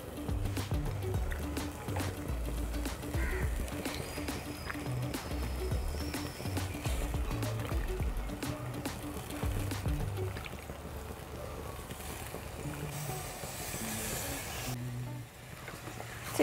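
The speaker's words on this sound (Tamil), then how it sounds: "சிக்கனை போட்டு ஒரு ரெண்டு நிமிஷம் நல்லா வதக்கி எடுத்துக்கலாம்" Chicken sautéing in masala in a pan, one kilogram of washed pieces frying in spiced gravy base, a steady close sizzle with scraping and stirring clatter throughout, no talking.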